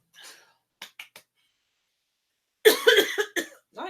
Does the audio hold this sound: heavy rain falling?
no